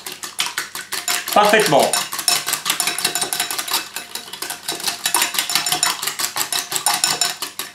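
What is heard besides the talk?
whisking egg with cheese in a bowl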